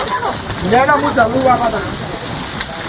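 Steady rain pours down outdoors, a dense hiss that continues throughout while several people talk loudly over it.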